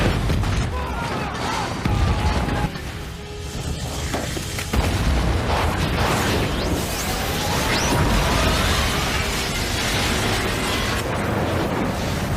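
A missile strike explodes in an animated futuristic fighter-jet battle, with loud booming blasts and rumbling bursts that fill the whole stretch, mixed with whooshes and a narrating voice over the top.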